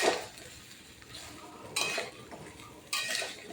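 Mango pickle with sugar is stirred in a pot, giving quiet scraping and a few sharper clinks of a utensil against metal, close and without talk.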